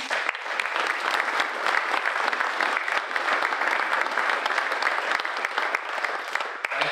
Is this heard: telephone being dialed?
no